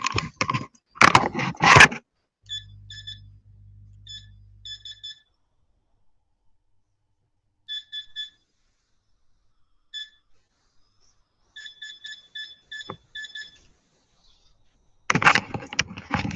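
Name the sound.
electronic beeping near a camera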